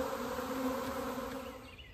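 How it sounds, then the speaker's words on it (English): A honey bee swarm in flight fills the air with a steady, dense buzzing drone, loud and continuous with no voices, as the bees circle before settling on an Osage orange tree. "I'll show you guys how I end up hiving this swarm"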